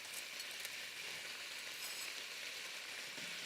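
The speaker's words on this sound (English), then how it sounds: "So let's get our noodles into the pan." Noodles fry in a pan with a steady, close, hissing sizzle that stays constant throughout, and no one speaks.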